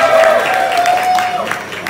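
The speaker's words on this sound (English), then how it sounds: "So let's give them a big round of applause too." Brief burst of crowd applause and cheering at the Sydney Pride Festival launch, loud and close with a whistle or tonal squeal running through it, fading slightly toward the end.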